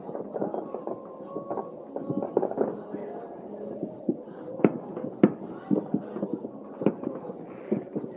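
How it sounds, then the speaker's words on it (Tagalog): Distant New Year's Eve fireworks in Poland burst in scattered sharp bangs and pops at irregular intervals, some faint and far off, some nearer, over a steady low background murmur. "So may mga pumuputok-putok pa rin"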